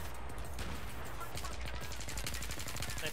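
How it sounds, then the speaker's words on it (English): Machine gun fire from Battlefield 3 gameplay rattles in rapid, dense bursts against a constant loud backdrop of combat noise, with the shots running steadily through the whole stretch. "They got like machine gun."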